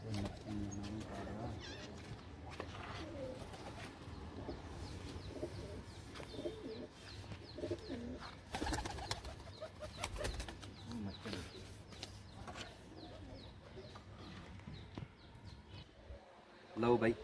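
Domestic pigeons flying back to their loft coo and beat their wings steadily throughout, with repeated flapping bursts and faint voices in the background.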